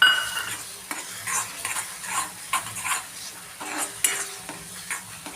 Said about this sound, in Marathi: आता हा मसाला आपण 1-2 मिनटं छान फ्राय होऊ देऊ